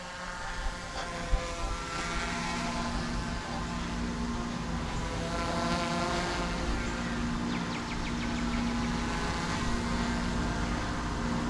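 A DJI Mavic 3 drone hovers nearby, its propellers giving a steady loud whine with layered buzzing tones that holds throughout, a brief knock early on.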